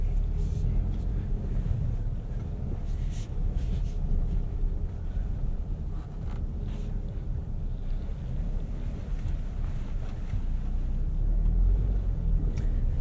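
Cabin rumble of a 2025 Nissan Rogue Rock Creek Edition with a 1.5 liter variable compression turbo and Xtronic CVT driving off-road, a steady low drone with wind noise and occasional bumps, no talk.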